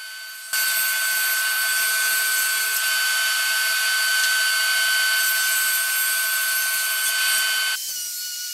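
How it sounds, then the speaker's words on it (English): A table saw rips through plywood sheets in one long continuous cut, a loud, close, high whining buzz that starts abruptly and drops back to the spinning blade's lighter hum at the end. "now I'll cut them to the exact size that I need here on the table saw"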